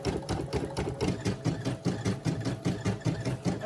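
A Brother SE1900 embroidery machine stitches a design in a 5x12 repositionable hoop, giving a steady, fast rhythmic whirring and clatter of the needle that continues evenly throughout, close and alone.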